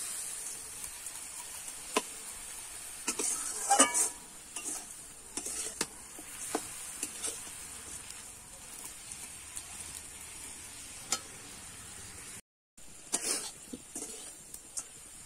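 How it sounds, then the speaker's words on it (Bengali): A spoon stirs vermicelli with milk, sugar and coconut in a pan for jorda shemai, giving scattered scraping clicks and soft scrapes near the pan, with a brief dropout near the end. "এবারে নাড়িয়ে চাড়িয়ে কিন্তু আমি চিনিটাকে কিন্তু ভালো করে মিশিয়ে নেব"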